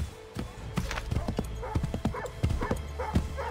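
Horse hooves clip-clop steadily and close at a riding pace through a town in Assassin's Creed 3, with game sounds and bits of talk mixed in.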